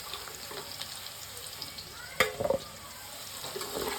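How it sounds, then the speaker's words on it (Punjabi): Steady hiss of potatoes frying in leftover oil, with a few sharper clatters partway through, moderately quiet and close. "ਇਸ ਬਚੇ ਹੋਏ ਤੇਲ ਦੇ ਵਿੱਚ ਜਿਹੜੇ ਆਪਾਂ ਆਲੂ ਆ ਇਹਨਾਂ ਨੂੰ ਫਰਾਈ ਕਰਨਾ ਹੈ"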